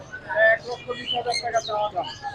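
Caged birds at the Mirpur 1 bird market in Dhaka chirp and whistle close by in quick, bright, overlapping calls, with faint voices in the background.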